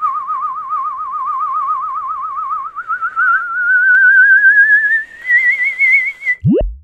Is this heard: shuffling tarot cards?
no